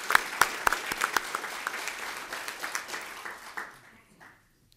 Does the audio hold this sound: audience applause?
yes